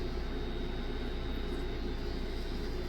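Ambition Torped tattoo pen running at 8 volts, giving a steady, close motor hum with a low buzzing drone that holds even and unbroken throughout, with no voices.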